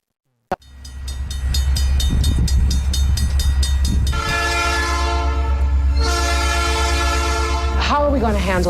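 A train passes close by with a loud rumble after a sharp onset, its horn sounding in long sustained blasts, with a brief pause between them and a pitch-bending blast at the end.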